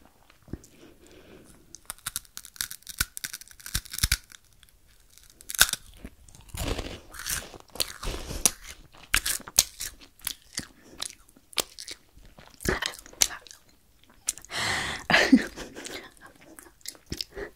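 Close, crisp crunching and chewing of a hard, chili-spiced biscuit, irregular bites and munches continuing for a long stretch with brief quiet gaps.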